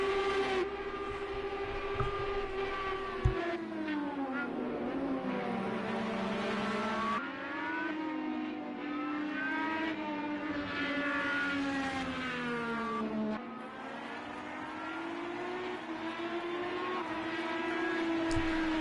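IndyCar race cars from a racing video game scream down the main straight at the Indy GP road course, a steady loud engine whine with rising and falling pitch sweeps as cars pass and shift, no talking.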